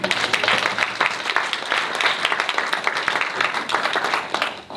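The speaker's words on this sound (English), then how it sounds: "Can we give a round of applause for them?" Steady, dense applause from a youth entrepreneurship competition audience, sustained at even loudness for several seconds before tapering slightly at the end.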